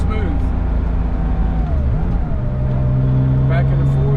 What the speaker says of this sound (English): So let's downshift again.